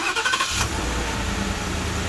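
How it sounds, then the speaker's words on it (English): A 2016 Ford F-150 XLT regular cab 4x4 pickup engine cranks briefly and catches, then settles into a steady, loud idle rumble close by. "All right, so let's start the truck."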